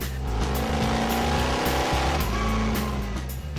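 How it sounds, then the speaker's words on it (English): The Batmobile from Batman Begins, its engine roaring loud and close in a sustained, rough, throbbing drone with shifting harmonic tones and no speech over it. "It's such a great car to drive, you know, it just screams at you, literally, you know, the noise is like somebody screaming at you."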